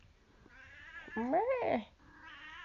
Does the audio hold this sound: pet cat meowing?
yes